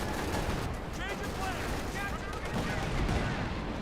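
Artillery barrage in the Company of Heroes 2 video game, a dense rumble of shell blasts and battle noise running continuously beneath a commentator's voice.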